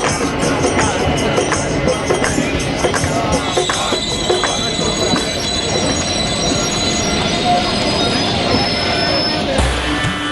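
An Indian passenger train traveling from Mathura toward Jagannath Puri rumbles steadily along the rails, with continuous loud wheel noise, squealing and clatter from inside the carriage throughout.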